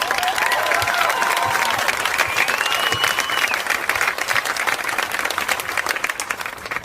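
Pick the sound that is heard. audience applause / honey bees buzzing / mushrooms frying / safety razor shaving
audience applause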